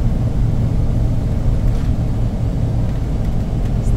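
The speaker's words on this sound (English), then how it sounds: "We're driving a big car." A big camper van, a house on wheels, climbs a steep road toward a campsite, its engine giving a steady low rumble and road roar that stay loud and even throughout with no voices.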